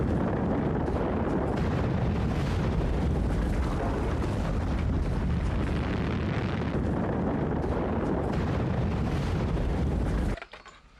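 A dramatized eruption of the Toba supervolcano on Sumatra roars as a continuous, dense, loud rumble with crackling bursts, sustained without pause before cutting off abruptly near the end.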